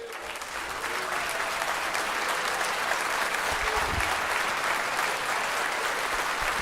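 A church congregation at a Portuguese-language evangelical service applauds, a sustained roar of many hands clapping that swells in the first second and then holds loud and even to the end.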